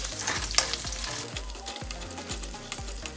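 Beef, brussels sprouts and mushrooms stir-frying in a pan, a steady close sizzle broken by repeated scraping stirs and knocks of the utensil roughly every half second, with no voices.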